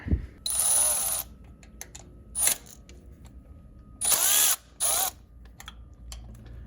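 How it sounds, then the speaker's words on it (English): Milwaukee M12 1/4-inch cordless ratchet with a 3/8 adapter turning nuts on a 2007-2011 Toyota Camry thermostat housing, several short motor whirring bursts separated by pauses, close and fairly loud. "I got my Milwaukee M12 1/4" cordless ratchet with a 3/8 adapter"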